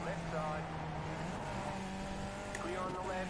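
Race car engines in the iRacing sim drone steadily at a constant pitch, with a continuous, fairly loud motor hum and a brief higher whine near the end.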